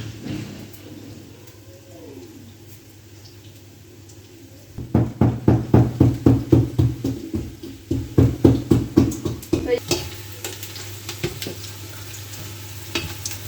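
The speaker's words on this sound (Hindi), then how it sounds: "यहाँ पे प्याज ब्राउन हो रहे हैं" Onions browning in a frying pan give a steady sizzle, joined midway by a run of loud rhythmic scraping and stirring strokes, with faint bird coos in the background.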